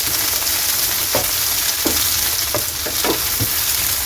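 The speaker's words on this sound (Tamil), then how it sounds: "ரெண்டு நிமிஷம் இது நல்லா வதக்கி வச்சுங்க." Onion and capsicum chunks sauté in hot oil in a kadai for kadai paneer, giving a steady close sizzle with several sharp stirring scrapes scattered through it, and no talking.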